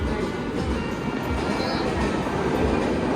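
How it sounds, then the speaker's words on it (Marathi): A train rumbles past nearby, a loud continuous rolling roar with rhythmic wheel clatter throughout. "मला बॅकग्राऊंड मध्ये त्या ट्रेनचा जास्त आवाज आहे"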